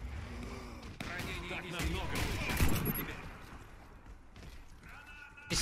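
Gunfire from an AS50 sniper rifle in the video game Warface cracks out amid other shots and game noise, with a voice talking over it.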